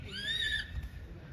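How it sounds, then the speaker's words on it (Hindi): A horse whinnies once, fairly close, among a group of standing horses outdoors near the Taj Mahal, a short rising-and-falling neigh over low background rumble. "ये सारे घोड़े खड़े हैं जी इधर।"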